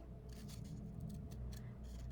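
Scissors making small snipping cuts around the edge of a paper piece to form tabs, a series of quiet, quick crisp snips alone.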